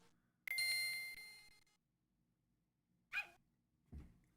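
Dog barking in a Game Boy Advance video game: a short chiptune bark with a bright ding-like tone, then a second yip and a soft low thump, separated by silence.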